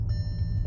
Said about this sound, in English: That sound you hear is my fat dog setting off the seatbelt thing.